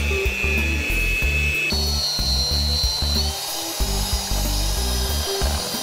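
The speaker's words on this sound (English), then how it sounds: "Now we're gonna just mix these ingredients." An electric hand mixer whirs steadily through donut batter ingredients in a bowl, a loud, continuous motor drone with shifting pitch as the beaters move, close and alone without speech.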